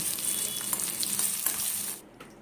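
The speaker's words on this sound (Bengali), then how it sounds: "ডুমো করে কাটা পেঁয়াজ দিলাম এই পেঁয়াজও আমি হালকা ফ্রাই করে নিচ্ছি" Diced onions fry lightly in a pan, a steady close sizzle with faint stirring, before the sound drops away near the end.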